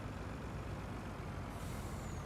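Game engine sound of a TLX truck in a farming simulator, a dense steady low rumble with broadband hiss, unbroken and close, with no voices.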